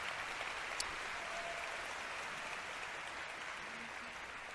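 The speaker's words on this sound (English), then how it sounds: "Let's have a round of applause for Anna Valencia." A round of applause for a candidate at a county party chairs' brunch, a dense, steady roar of clapping from a large audience holding at an even level throughout.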